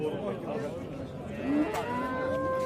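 A cow moos nearby, a long low drawn-out call rising in pitch toward the end, with faint background voices.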